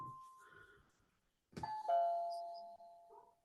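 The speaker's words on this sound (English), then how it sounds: "I heard a doorbell" A doorbell gives a clear two-tone chime that rings out and fades slowly after a brief quiet moment and a few faint background murmurs indoors.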